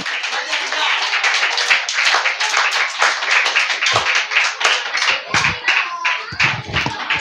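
A congregation at a church prize-giving claps loudly and continuously, a close, dense patter of hands with a few brief dips, and scattered voices rise through the applause.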